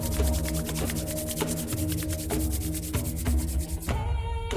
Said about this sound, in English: So begin by rubbing your hands together